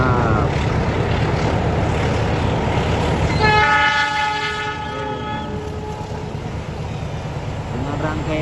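Lodaya passenger train crossing the Citis bridge at Nagreg, sounding a loud sustained horn signal with layered tones over steady rolling rail rumble, heard close.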